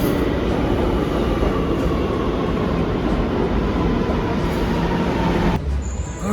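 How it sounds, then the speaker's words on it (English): Loud, continuous rumble and roar inside a newer New York City subway car in motion, steady throughout with a brief change in tone near the end. "All right, got off the train. It was a nice train. It was one of the newer ones"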